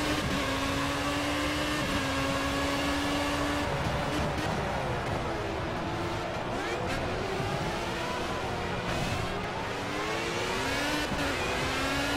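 Racing car engines in a video game whine and rev continuously, pitch sliding up and down as gears shift, with a faint steady hum beneath.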